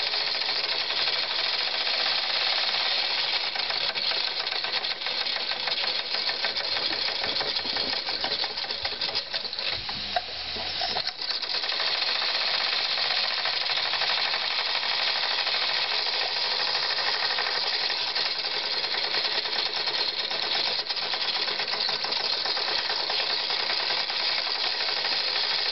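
A steam engine bought from Jensen's, holding around 18 to 19 pounds of pressure, chuffs and clatters in a fast continuous mechanical rhythm that runs steadily for about twenty-five seconds, with a brief dip partway through and no voices.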